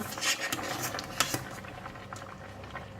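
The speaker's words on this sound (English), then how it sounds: "Just let it boil inside there for about 2 minutes. It's boiling." Steady bubbling and popping of water boiling in a pot with lotus root, with a few light metallic clinks over a constant low rumble.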